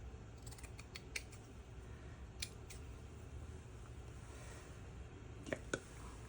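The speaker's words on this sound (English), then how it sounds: "Yep, cut it way too wide. There we go. Gotta cut that off just a smidge at the bottom." Scissors trimming patchwork fabric for junk journal tags, a few quiet, close snips in small clusters over a soft background hush.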